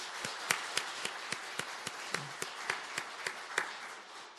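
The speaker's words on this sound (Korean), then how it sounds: "주님 부활의 영광의 박수로 하나님께 영광 돌리겠습니다" A church congregation at an Easter Sunday service claps together in a slow, even rhythm, each sharp clap ringing out clearly in unison, roughly two per second.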